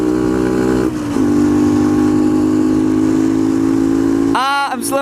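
A Skyteam PBR motorcycle with a carbon exhaust is ridden, its loud, steady droning engine note dipping and settling after a shift, with wind noise and a brief voice near the end.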